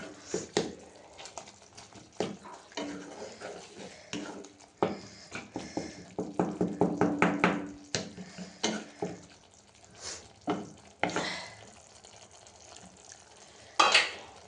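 Thick spice paste being stirred and scraped by hand in a pan, a run of clattering, scraping strokes with soft sizzle in between, close and moderately loud, with no talking.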